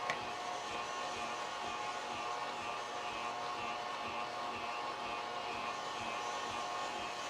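A KitchenAid stand mixer runs steadily with an off-brand sausage-grinder attachment fitted, giving a continuous even motor whir with a faint high whine, close and unbroken throughout.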